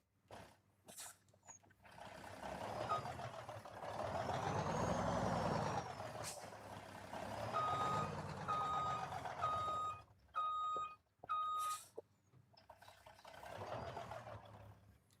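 Truck reversing in a farming video game: steady reversing beeps sound in bursts, with engine rumble and a sharp hiss of air brakes, all fairly close, and no talking.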